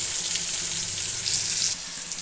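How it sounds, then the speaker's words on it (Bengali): Potatoes seasoned with salt and turmeric fry in hot oil, giving a steady close sizzle throughout that eases slightly near the end, with no voices. "তো চলো আলুটা ভাজা হোক।"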